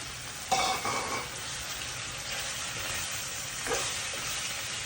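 Tomatoes hit a hot pan with a soft hissing sizzle for Filipino pinakbet with chopped ginger, a brief louder crackle at the start and another a few seconds later over a constant low frying hiss.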